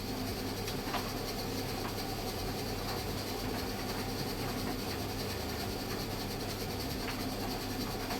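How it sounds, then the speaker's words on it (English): The motor of an Indesit ISV75 7kg vented tumble dryer produces a steady mechanical whirring rumble throughout, loud and continuous, with faint occasional clicks over the drone. "That is the motor making that noise."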